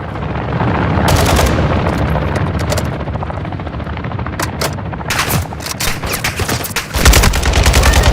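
Video game gunfire, with rapid machine-gun bursts and single shots over a constant helicopter rotor drone, loud and close, with bursts recurring throughout.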